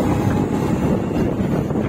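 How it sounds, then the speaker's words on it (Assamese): Strong cold wind roars and buffets continuously against the microphone at Mayudia Pass, Arunachal Pradesh, a loud, low, rushing noise with no voices. "ইমান ঠাণ্ডা বতাহ মাৰি আছে"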